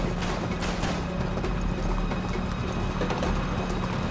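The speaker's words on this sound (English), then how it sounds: "Can my horse hurry up?" Horse hooves clop along in Uncharted 3, a steady run of impacts mixed with mechanical game noise and a constant low rumble throughout.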